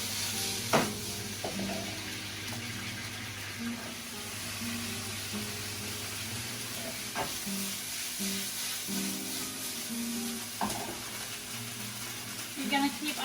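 King prawns sizzle and fry on high heat in a pot with a pinch of saffron, a steady crackling hiss with occasional stirring clatter while a person talks over it.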